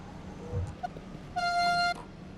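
A train horn sounds in Train Sim World 6 at night in Germany, one steady tonal honk of about half a second, preceded by faint short toots over a low rumbling cab background.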